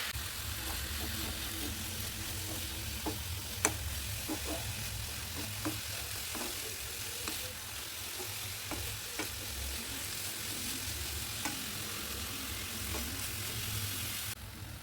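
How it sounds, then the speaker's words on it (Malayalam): Jaggery syrup and grated coconut are stirred together in a hot pan, giving a steady close sizzling hiss broken by irregular scraping taps from the spoon. "അത് തേങ്ങയുമായിട്ട് നന്നായി മിക്സ് ചെയ്തെടുക്കാം"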